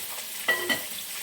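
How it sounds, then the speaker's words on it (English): Oil sizzles steadily as Southern fried chicken fries in a pot, with two short clinks or stirs breaking in briefly. "The frying is not frying in high speed."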